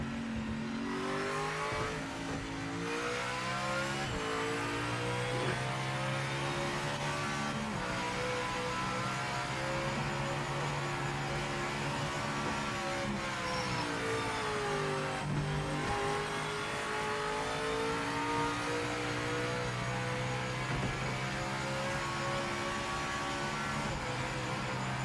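A race car engine heard from on board in the Project Motor Racing sim, loud and continuous, revving up through the gears with steady harmonic whine and brief dips at shifts, running unbroken for the whole stretch.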